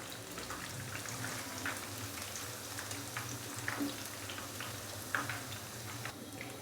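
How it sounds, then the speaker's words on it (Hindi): Besan-coated chicken pakoras frying in hot oil over a medium-low flame, a steady soft crackle and bubble with a few sharper pops as pieces are lifted out. "तो अभी मैं इसको ऑयल से बाहर निकालूंगा।"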